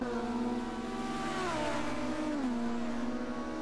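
A touring race car at a Melbourne Grand Prix support race pulls away from the roadside after spinning its wheels, its engine revving up through the gears in one steady, fairly loud pass.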